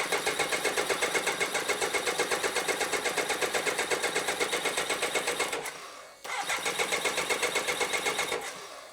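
A BMW K100 motorcycle engine cranks over with choke applied, a loud, steady, rapid chugging of the starter that pauses briefly, then resumes and keeps turning without catching.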